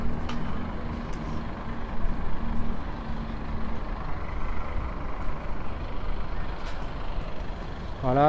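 Bus idling at a bus station with a low, steady engine rumble and a few brief hisses and clanks, fairly faint and continuous throughout.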